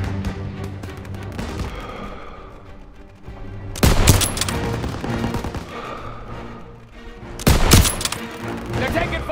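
Dense World War II battlefield gunfire in Call of Duty: WWII, with sustained rattling bursts and two loud, close volleys that punch through the din, over continuous combat noise and shouted voices.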